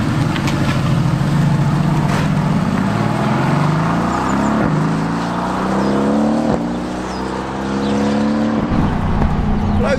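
A Mercedes-AMG GT S Edition 1 engine and exhaust roar loudly from inside the cabin while driving, climbing through revs in rising sweeps with brief drops between gear changes and a steady deep drone underneath.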